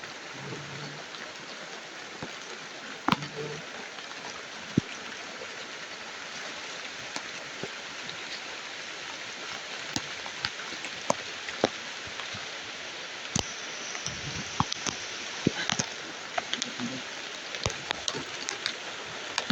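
Steady rain hisses on a surface, with scattered louder drops and taps breaking through the continuous wash of sound.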